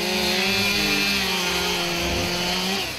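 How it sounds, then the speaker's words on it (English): Chainsaws cut ventilation holes into a composition-shingled roof during a firefighting operation, a loud, steady, close engine whine with shifting pitch as the blades bite, continuing without talk. "With the sound of chainsaws blaring, they begin their cuts."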